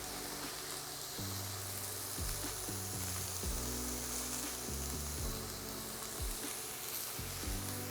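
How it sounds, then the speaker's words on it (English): Steak bites seasoned with salt and pepper sear in a hot pan on the stove, giving a steady, continuous sizzle with no voices. "we're gonna let these cook for 3 minutes on one side"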